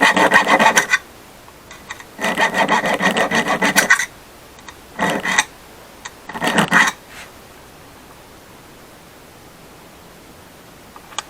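A hand file rasps against the hardened steel lip of a pistol magazine, with several close, loud scraping strokes in uneven bursts of varying length, followed by quiet.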